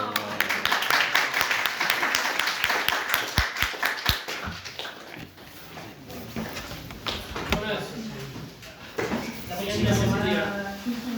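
Audience applause at a seminar session on ethics and technoscience, a burst of scattered claps and taps rising and fading over roughly eleven seconds, with voices talking over it.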